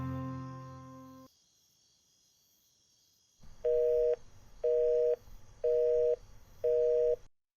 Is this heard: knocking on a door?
no